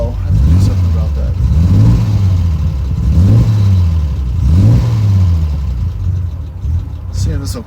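A Triumph TR6 engine idles low and rough and is revved in several repeated rising blips, loud and close, while a person talks over it.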